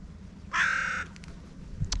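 A crow gives one loud, harsh caw close by, then quieter calls and a brief higher chirp follow over steady low background rumble.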